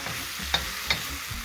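Curry shrimp stirred in a pan over medium heat, a continuous sizzle with two crisp spoon clicks against the pan, close and clear, without speech.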